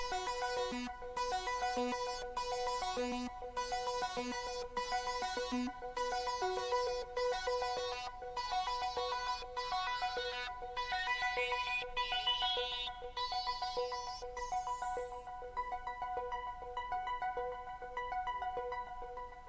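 Repeating electronic synth notes in a steady pattern, with a resonant filter sweep rising upward midway, giving a bright, retro tone; fairly quiet overall.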